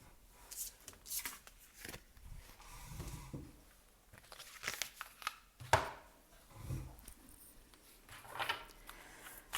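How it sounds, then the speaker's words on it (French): Tarot cards slipping, falling and being shuffled by hand, with soft papery flicks, taps and rustles coming in irregular bursts, close and fairly quiet. "Pardon, les cartes tombent."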